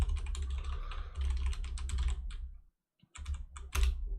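A computer keyboard clatters with rapid close keystrokes, including backspace presses, then a brief pause before a few more taps.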